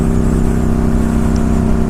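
Yamaha 950 motorcycle engine pulling hard on a highway, a steady close droning roar with a rising throttle pitch and constant wind rush, no voices.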